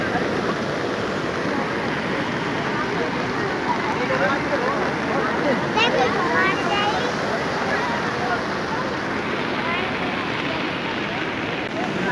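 The flooded Newaj river rushes after heavy rain, filling the scene with a loud, unbroken roar of turbulent water that stays steady and close.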